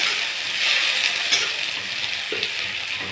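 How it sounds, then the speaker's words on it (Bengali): Onion fries lightly in a pan for a Malabar spinach dish, giving an even, close sizzle with faint clinks and scrapes from stirring. "হালকা একটু ভাজবো পেঁয়াজটা।"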